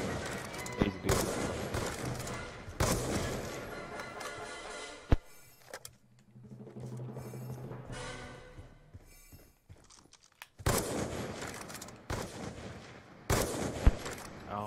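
Bursts of gunfire from the video game Call of Duty: Black Ops 2, a BSR rifle among the weapons, with loud sharp shots and impacts in clusters and a quieter stretch midway.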